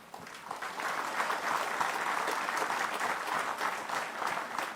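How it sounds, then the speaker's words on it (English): Soldiers clap at a Christmas lunch at Base Camp Seweyo in Guyana. After a brief quieter start, the applause swells into a sustained, even wave of many hands from a large group. "I ask you to applaud yourself"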